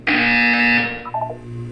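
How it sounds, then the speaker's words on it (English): A buzzer from the video game Portal 2 sounds once: a loud, bright, sustained electronic tone lasting under a second, followed by a few quieter descending tonal blips, with no talk. "You will hear a buzzer."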